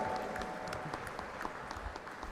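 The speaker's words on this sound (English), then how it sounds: "have a huge round of applause for revered founder, Professor Dr. Vishwanath Karad, sir" An audience, asked to rise, applauds Professor Dr. Vishwanath Karad, the revered founder, at a live endowment lecture, a soft, distant patter of many hands with a few sharper claps standing out.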